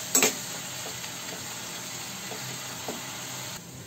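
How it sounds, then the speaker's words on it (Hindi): Tomato frying in a pan with turmeric, coriander powder and ginger-garlic paste for a jackfruit kofta curry, giving a steady soft sizzle with a few faint stirring scrapes, fairly quiet and close, with no talking. "इन सभी को डालने के बाद इसे अच्छे से भूनना है।"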